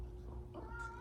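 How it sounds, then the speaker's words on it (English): A house cat meows nearby, a drawn-out whining cry that rises toward the end, heard alone against a quiet room. "do not mind my cat"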